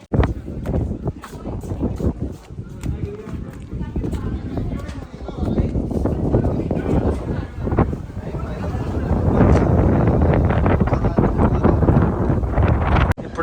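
Wind gusts at a forest park lake buffet the microphone in loud, uneven low rumbles that swell toward the end, with people talking nearby.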